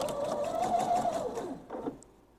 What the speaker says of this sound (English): I'm going to go back to the machine now and sew my 1/4 inch seam